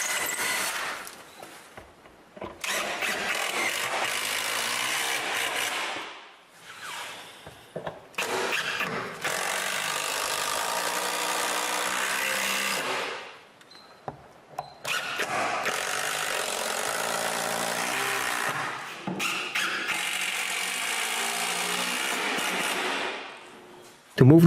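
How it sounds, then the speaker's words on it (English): A power screwdriver drives screws to fix a wooden folding shelf's support to the wall, in several bursts of whirring with short pauses between them, close by and moderately loud. "Now I can finally screw the support to the wall."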